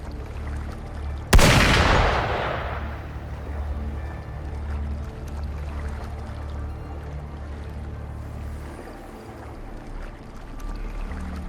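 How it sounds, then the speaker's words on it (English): A single sharp gunshot cracks out in the video game Wuthering Waves, followed by a long decaying rumble over a steady ambient background. "Gunfire! We've got intruders."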